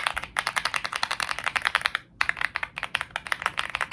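Rapid clicky typing on an Aula F75 mechanical keyboard, crisp clacking keystrokes in a quick rhythm with one short pause, close up.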